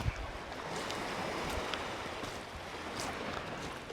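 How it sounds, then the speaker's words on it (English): Sucker Creek in Wisconsin flows near a beach, a steady broadband rush of moving water that stays constant throughout, close and fairly loud, with no speech. "So Sucker Creek is usually got some flow all year round."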